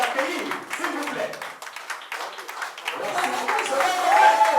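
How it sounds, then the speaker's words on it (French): An audience applauding the singer at a live dedication event, a continuous patter of clapping that swells toward the end, with a voice speaking over it. "Il faut l'applaudir très fort."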